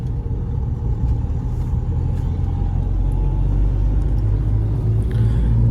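A Hyundai Creta 1.6 diesel and a Mahindra XUV500 race side by side in a drag race, heard from inside a vehicle as a steady, loud, low engine and road rumble throughout.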